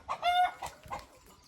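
A rooster gives a few short, faint clucks in quick succession, with a soft trailing call at the end.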